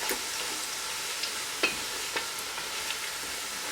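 Whole cloves, cinnamon, bay leaf, cumin and green cardamom fry in a pot, giving a steady hiss of sizzling with a few scattered pops and a light stir, no talking.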